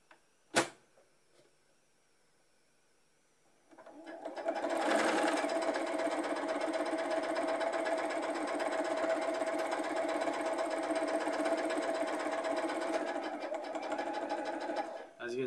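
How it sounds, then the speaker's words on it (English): A sewing machine stitches down part of a fabric face mask, starting after a brief tap and running as a steady, fairly loud mechanical whir for about eleven seconds. "But I'm actually gonna sew this down, this part down."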